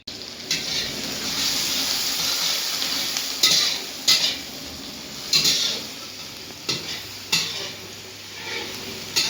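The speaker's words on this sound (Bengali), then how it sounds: "চিকেন রান্না করছি" Chicken sizzling loudly in a pan, a steady bright frying hiss broken by several sharp bursts as the pieces are stirred and moved, with light metallic scrapes.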